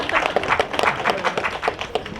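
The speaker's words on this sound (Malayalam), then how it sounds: "നല്ലൊരു കൈയടി" An audience at a Malayalam film trailer launch event claps in a quick, dense burst of applause, close and lively, fading slightly at the end.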